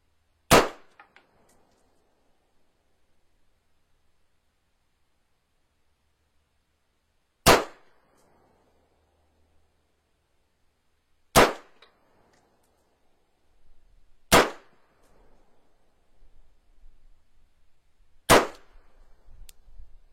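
A rifle fires five separate rounds outdoors, each a sharp loud crack spaced several seconds apart with a brief decaying tail, and only faint background noise between shots.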